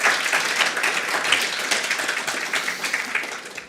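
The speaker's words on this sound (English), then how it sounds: "So please give a big applause to Ms. Jasmina Kljajić-Vidović." Conference audience applauding for an intellectual property event, a dense, steady wash of many hands clapping throughout at moderate volume, with no talk over it.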